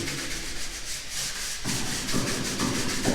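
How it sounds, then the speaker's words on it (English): Close, steady scraping and rubbing of a sanding pad across a freshly mudded and taped drywall ceiling, in repeated strokes with a coarse, gritty hiss. "up here sanding the ceiling that he mud and taped yesterday"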